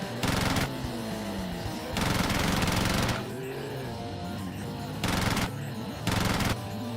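Bursts of rapid automatic gunfire in a toy-brick animation scene, four loud rattling volleys of about a second each separated by short gaps, with a musical or ambient bed running underneath.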